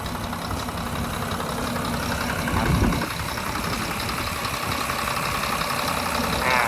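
The diesel engine of a 2010 Tadano GR-250N-2 25-ton crane truck idles steadily nearby with a continuous low rumble and clatter, unchanging throughout.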